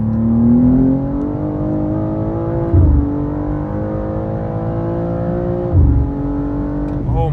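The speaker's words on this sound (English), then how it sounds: "Oh my God, this car pulls so hard." A 2027 Chevrolet C8 Corvette accelerating hard in third gear, its engine note climbing steadily through the rev range with brief dips at two upshifts, loud and close from inside the car.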